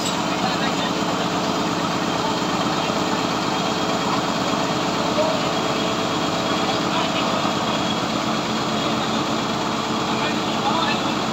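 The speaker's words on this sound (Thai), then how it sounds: "คนกลางนี่ทำหน้าที่สตาร์ทคนหลังนี่ทำหน้าที่เร่งคันเร่ง" A homemade straw baler vehicle's engine idles with a steady, loud, continuous mechanical drone and vibration that holds unchanged throughout, with voices talking over it.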